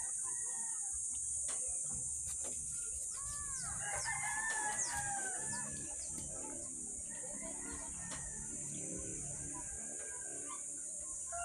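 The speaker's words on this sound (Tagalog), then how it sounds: "Daming manok dito." Many chickens and roosters in a hot rural yard, several crowing calls and clucks at moderate distance over a constant high insect drone, with other faint yard noises.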